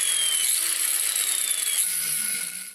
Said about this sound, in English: we're going to use the cutoff saw for it because it is 1/4 inch steel.